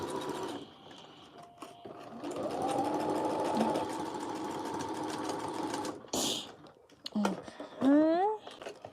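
A sewing machine stitches a dress in a steady, close mechanical whir that runs for several seconds and then stops, while someone talks over it and after it.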